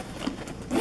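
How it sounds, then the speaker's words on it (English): A zipper on the back pouch of a Tocode large messenger bag is pulled in one short, scratchy run, close up and fairly quiet, with no talking. "there is a zipper pouch in the back"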